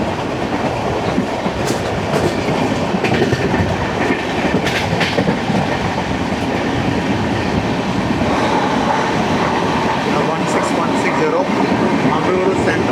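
A Gandhidham - Tirunelveli Humsafar Express train crossing a temporary bridge near Farook station moves slowly with a constant loud rumble and rhythmic clickety-clack of wheels over the rails, heard from onboard while a voice speaks at times.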